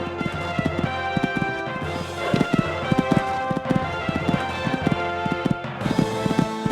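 Hooves of a horse galloping across an eventing cross-country course, a steady rapid drumming of clip-clop beats at moderate distance with no voices.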